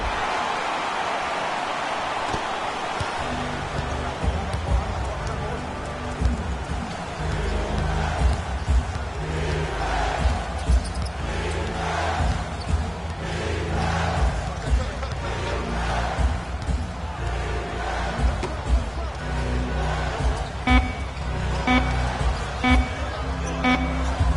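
Arena crowd noise from the NBA Live 16 basketball game, a Pacers versus Cavaliers matchup, swelling and cheering steadily for the whole stretch, loud and dense with rhythmic bursts and a commentator-style voice faintly mixed in.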